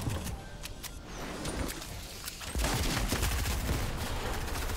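Rapid bursts of gunfire in a Fortnite Battle Royale match, dense and crackling, growing louder and busier partway through, with no talk over it.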